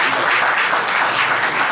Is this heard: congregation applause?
yes